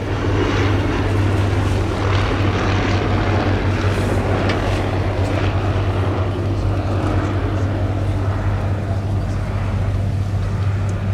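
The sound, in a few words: Bristol F2.B fighter biplane propeller engine flying at airshow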